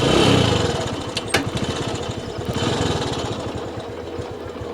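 A motorcycle engine idles at a traffic stop, a steady close rumble with a regular low pulsing throb and occasional brief sharper ticks, with no talk over it.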